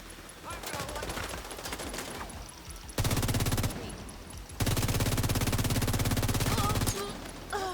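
Rapid video-game gunfire in a shooter, with dense bursts of automatic fire, the loudest stretches running near and sustained, spaced by a few brief shots and layered with other game effects.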